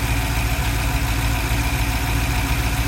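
A Cadillac CTS-V's LS6 V8 idles right after a new harmonic balancer install, with a steady, close, continuous rumble and faint vibration throughout and no talking.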